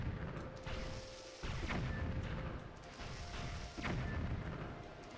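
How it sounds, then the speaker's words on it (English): Bombling explosions in Zelda: Twilight Princess HD at Hyrule Castle, several muffled booms rumbling over a dense, continuous game soundscape, each burst swelling briefly then fading. "Bomblings can blow up their armor because they can walk underneath them."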